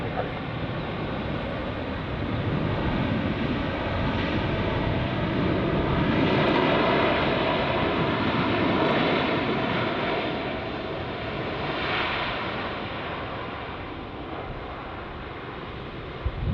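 An airliner landing at Heathrow Airport, a loud, sustained jet engine roar that swells and holds for many seconds, with no talking.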